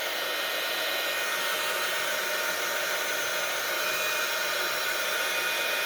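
A hair dryer blows steadily to dry paint on an art journal page, a loud, constant broadband whoosh running unbroken from start to finish with no other sounds.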